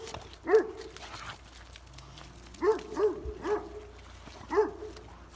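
A dog barks in a village setting, five separate barks in two bursts: one early, then a quick cluster of three and a final one, moderately near over a low background hum.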